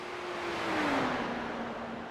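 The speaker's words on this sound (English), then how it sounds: "So Craig Forsyth just came blowing by the 31 of Julian." Race car blowing past at speed during a Spa Grand Prix race, a loud engine roar that swells and falls in pitch as it passes close by and moves away.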